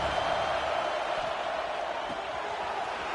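Crowd noise in a Georgia football stadium on third down, a broad, steady roar from the packed stands, distant and sustained under the hum of the venue.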